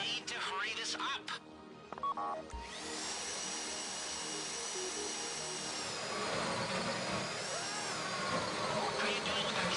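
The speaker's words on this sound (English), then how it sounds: "How you doing with that drill?" Heist drill boring into a safe in GTA 5, a steady high grinding whine that settles in after a few seconds and runs continuously, with voices and game sounds early on.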